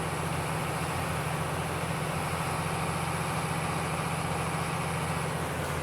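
A tractor engine idles in a Farm Sim video game, a steady low rumble with a constant droning hum that holds even and unbroken throughout.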